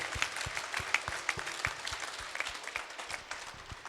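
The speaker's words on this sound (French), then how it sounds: "bravo, applaudissez-la très fort." A children's audience at a pilgrimage gathering applauds loudly, a crowd's dense clapping with a steady rhythmic beat running through it, sustained for several seconds.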